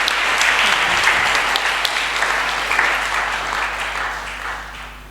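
A church congregation claps, dense sustained applause that fills the room, then tapers slightly toward the end, with faint voices mixed in.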